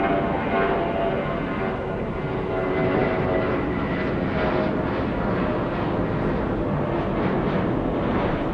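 A heavy jet airliner lands on runway 8 left at Atlanta's Hartsfield-Jackson airport, a steady, loud engine roar that holds evenly throughout with no break, no talk over it.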